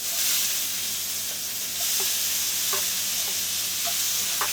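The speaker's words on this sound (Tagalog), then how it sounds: "Yan, igisa ko siya guys sa kamatis." Beef with tomatoes and mushrooms sizzles steadily in a hot pan, a continuous bright hiss with a few soft clicks and pops of spatula stirring scattered throughout, no voices.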